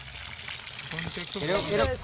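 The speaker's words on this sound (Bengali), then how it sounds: "তো মাংসের জন্য পেঁয়াজ ভাজা হচ্ছে।" Onions fry in oil for a meat curry being cooked at an outdoor picnic, a soft crackling sizzle close by while a voice talks over it.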